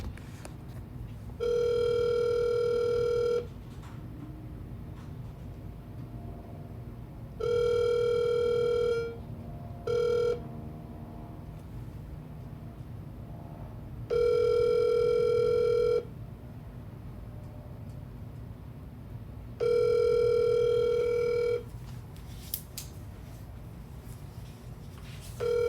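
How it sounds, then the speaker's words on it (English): An outgoing telephone call rings back with long, loud, steady ringback tones, about two seconds on and several seconds off, repeating five times over a faint background hum. "Let's see what happens when I ring her phone."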